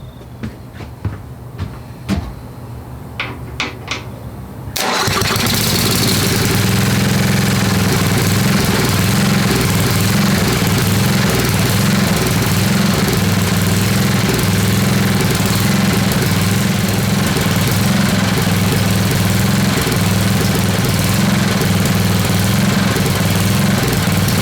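A Craftsman riding lawnmower with a 10hp Tecumseh engine and water damage fires up after a few quiet clicks and then runs loud and steady at raised RPM, a close continuous roar with no talking.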